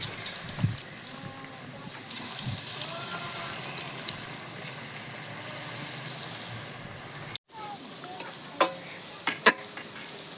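Paneer for paneer 65 half-frying in hot oil in a pan, a steady close sizzle with scattered sharp spatters and scraping stirs, a brief dropout partway, then louder crackles near the end.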